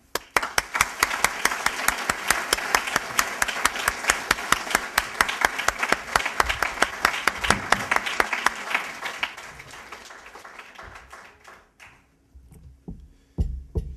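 Audience applause rings out as dense, loud clapping for about ten seconds, then thins into scattered claps and fades almost to silence, with a few isolated claps near the end.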